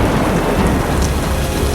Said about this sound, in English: Why are there so many thunderstorms?